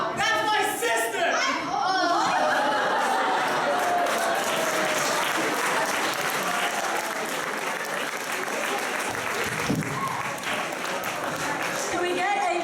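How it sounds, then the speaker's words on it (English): Sustained applause from a poetry slam audience, a dense wash of many hands clapping loudly and steadily throughout, mixed with crowd chatter and voices. "Can we get another round of applause?"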